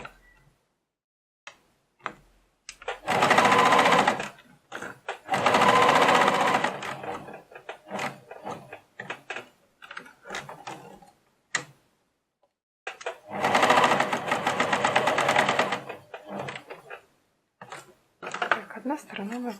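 A sewing machine runs in three sustained bursts, stitching a decorative topstitch seam on a handmade key holder. Short clicks and handling noises fill the pauses between runs, and the stitching is close and steady.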